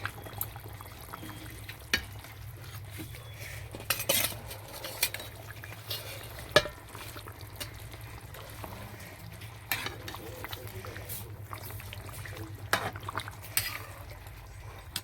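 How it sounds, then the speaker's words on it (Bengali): Fish pieces go into a boiling curry gravy in a pan, bringing a steady simmering bubble and sizzle broken by scattered soft splashes and clinks, close and moderately quiet, with no one talking. "ঝোলটা ভালো করে ফুটে গেছে, এবার মাছ তুলে দিচ্ছি, মাছগুলো দিয়ে দিচ্ছি"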